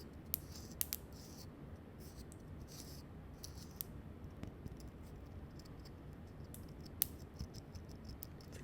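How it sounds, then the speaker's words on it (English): Freeze-dried candy crackling and popping like pop rocks, sparse tiny sharp pops scattered over a faint background hiss, close and quiet. "Popping like pop rocks."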